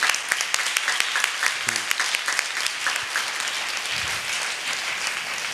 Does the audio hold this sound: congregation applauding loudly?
yes